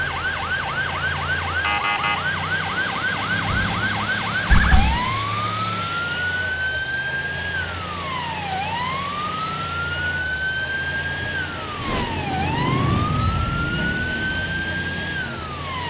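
A wailing emergency vehicle siren in the game FiveM sweeps up and down in long, steady cycles after a brief rapid yelp pattern at the start, loud and continuous with engine rumble beneath.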